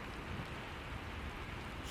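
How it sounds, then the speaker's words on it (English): Light rain falls steadily during a power outage at a house, a soft, even hiss with no voices, quiet and constant throughout. "It's not even raining that hard."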